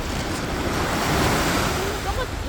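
Ocean waves crash steadily on the shore at Maemi Castle on Geoje Island, a dense continuous roar of surf with wind buffeting the microphone.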